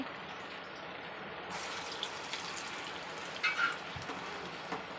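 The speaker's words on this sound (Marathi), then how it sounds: "आपण आपले हे वडे आता तेलामध्ये सोडून घेणार आहे" A soft steady sizzle of medu vada batter frying in hot oil, with a louder bubbling crackle surging briefly partway through, close and unaccompanied by speech.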